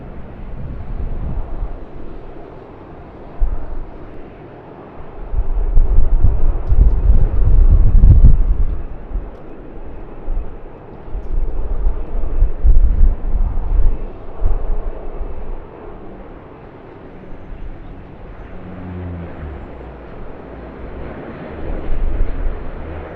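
A Jetstar airliner at Sydney Airport sends a broad, distant engine roar that swells and fades in waves, mixed with gusty wind buffeting the microphone.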